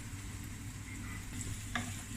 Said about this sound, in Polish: cebulka już się przerumieniła